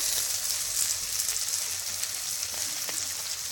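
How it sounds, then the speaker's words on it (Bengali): Chopped elephant apple frying in a pan with salt, a soft steady sizzle and crackle heard close and fairly quiet, with no talking. "এই হালকা করে একটু ভেজে নেব চালটাটা"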